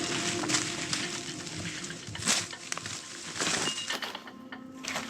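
Water of a small creek in deep wilderness near an abandoned industrial complex, a soft continuous wash and patter with a few louder splashy surges, steady and moderately close.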